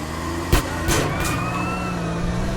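A car driving in the 2004 video game Grand Theft Auto: San Andreas on PlayStation, a steady loud engine hum with a couple of sharp bumps and a rising whine, no talk.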